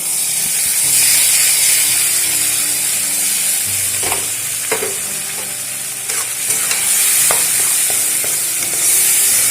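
Broad bean paste with spices fries in a pan in a village-style Bengali kitchen, with a loud, constant sizzle and repeated scraping, ratcheting strokes of a spoon stirring it close by.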